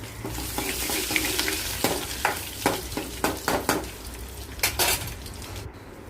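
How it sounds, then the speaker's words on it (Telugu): Fenugreek seeds, garlic cloves, dried red chillies and curry leaves fry in a tempering pan for dal, giving a steady close sizzle broken by sharp clinks and scrapes of a spoon against the pan. "మెంతులు ముందుగా వేసుకొని వేయించేసుకొని వెల్లుల్లి రెబ్బలు ఎండుమిర్చి కరివేపాకు కూడా వేసి పప్పు పోపు పెట్టేసుకోవాలి"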